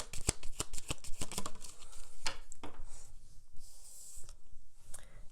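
Tarot cards are shuffled close by in a rapid burst of crisp riffling flicks, followed by scattered softer slides and taps as the deck is handled.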